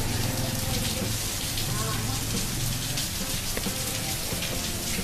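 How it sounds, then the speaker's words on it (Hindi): Heavy rain pours down steadily in a dense, continuous hiss, with a faint voice partly buried beneath it. "अभी देखिए कितनी तेज बारिश हो रही है।"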